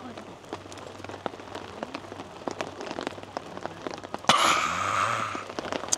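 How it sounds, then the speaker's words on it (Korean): Rain patters steadily on a surface at a seaside campsite with scattered distinct drops, then swells into a louder, denser rush near the end. "빗소리 들리고 좋네"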